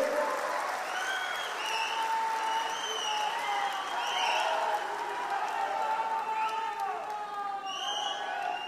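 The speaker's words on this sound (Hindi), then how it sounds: "आप जोर से ताली बजाइए" A large crowd at a political rally in Ratnagiri claps steadily, a dense wash of applause mixed with scattered whistles and cheers, loud and sustained throughout.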